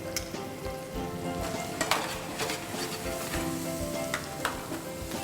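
Onions sizzle steadily in a hot pan while cooking kuthiraivali (barnyard millet) kichadi, with frequent clinks and scrapes of a utensil stirring against the metal.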